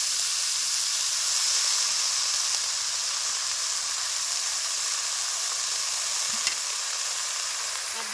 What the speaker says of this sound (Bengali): এখন আমি দিয়ে দেবো কেটে রাখা ডেঙ্গা পাতা শাকগুলি।